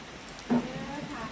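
Rain falls steadily on a hot day, giving an even, close hiss throughout, with a brief vocal sound near the start.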